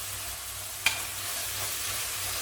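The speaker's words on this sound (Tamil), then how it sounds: "ஒரு 2 நிமிஷம் வதக்கி விடலாம்." Peas and vegetables sautéing in a pan for vegetable biryani make a steady, soft sizzle, with one brief clink of a utensil.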